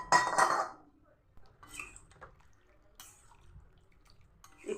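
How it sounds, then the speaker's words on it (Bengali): Paneer with its water tipped into a pan of potato curry, a short wet splash and clatter at the start followed by faint clinks and light utensil knocks, fairly quiet overall. "এবার আমি এই জল শুদ্ধ পনিরটা দিয়ে দেবো।"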